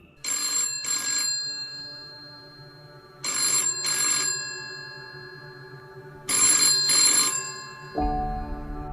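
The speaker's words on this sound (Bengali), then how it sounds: "সেদিন রাতে নীল বাড়ি ফেরার পর ফোন করে তার মাসি কামিনী দেবী।" A telephone rings in a cartoon, sounding in three pairs of bright electronic trills separated by short pauses, followed by a lower sustained tone at the end.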